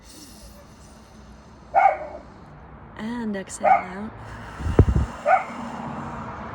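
A dog barks and whimpers a few times at moderate distance, short scattered yips over soft background hum, with a calm voice speaking during a breathing exercise.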